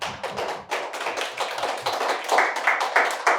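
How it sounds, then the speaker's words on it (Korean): A church congregation at an Easter Sunday service breaks into rhythmic clapping, many hands together in a close, steady beat that grows slightly fuller. "박수."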